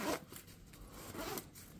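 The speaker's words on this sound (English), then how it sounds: "you've got a two-way zipper, so if you have to go to the bathroom" A two-way zipper on Patagonia PCU Level 5 trousers being pulled, giving short soft rasping zips at close range, quiet and with no talk.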